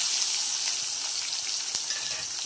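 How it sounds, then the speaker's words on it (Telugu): Thinly sliced onions sizzle and fry in hot oil with whole spices for a country chicken curry, a steady bright crackling hiss that stays even and close throughout, with a faint stir or clink near the end. "ఇప్పుడు సన్నగా కట్ చేసి పెట్టుకున్న ఆనియన్స్ వేసేద్దాం"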